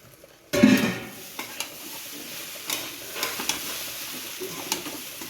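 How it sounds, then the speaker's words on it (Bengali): Pulao rice is fried and stirred in a pan. A sudden sizzle starts, then settles into a steady frying hiss, broken by scattered scraping and clinking stirs close by. "দিয়ে ভালো করে পোলাও চালটা ভেজে নেবো"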